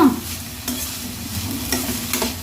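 Onions fry in a pan until browning, with a soft sizzle beneath repeated scraping stirs that come every half second or so, close by and with no voices.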